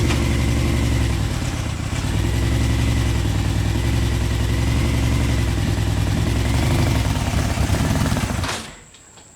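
A Honda CBR 600 engine in a reverse trike build runs steadily and loudly with a dense, throaty drone, holding close and constant for over eight seconds before cutting off abruptly near the end.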